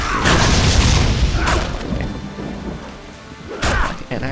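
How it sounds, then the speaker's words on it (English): A ship's cannon weapon in the video game Torchlight 2 fires heavy, booming blasts, loudest near the start. Further deep thuds follow over a rumbling game soundscape, with another strong boom near the end. "I just picked up one of my favorite weapons in the game. It is a ship's cannon."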